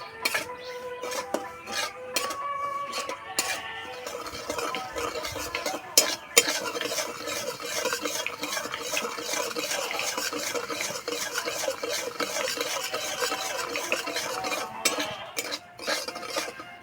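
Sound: frying and stirring semolina until reddish

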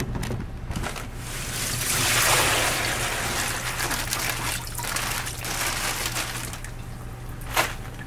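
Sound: water draining out of a plastic bag

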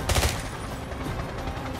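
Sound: gunfire in the video game James Bond 007: Blood Stone

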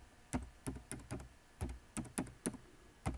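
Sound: typing a message on a computer keyboard

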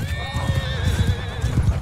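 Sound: horse galloping in a video game

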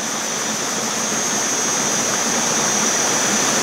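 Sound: water flowing back through a Platypus GravityWorks filter into bag

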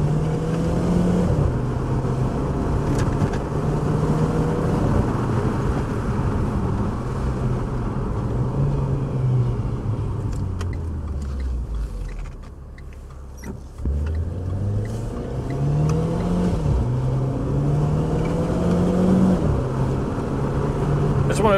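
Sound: Renault Clio engine revving high in manual mode

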